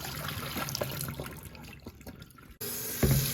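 Tap water runs steadily into the reservoir of a Keurig coffee maker, a continuous splashing fill that cuts out briefly near the end, then resumes with a fuller, deeper gush.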